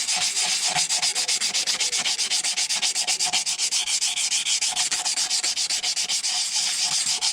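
Corrosion is abraded off the top mating face of a Ferguson tractor cylinder head, giving fast, steady back-and-forth rubbing strokes, close and continuous, with no talking.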